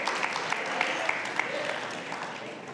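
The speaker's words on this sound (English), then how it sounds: "only 12 of you clapped at that." A small church congregation gives scattered, sparse clapping, a thin patter of individual claps that carries steadily for a few seconds against the room's ambient noise, with speech mixed in.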